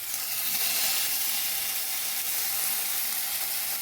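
Ginger paste sizzles loudly in hot oil with frying garlic, a steady bright hiss of crackling and spitting that holds evenly without talk.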